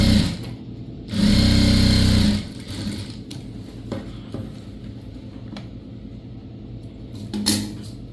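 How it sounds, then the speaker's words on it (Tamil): Sewing machine stitching a box pleated school uniform skirt, one loud steady whirring run of about a second, then quieter clicks, fabric handling and a brief second burst near the end. "இப்போ இந்த மாதிரி வந்து நம்ம ஒரு பக்கத்தில் தைச்சிட்டோம்"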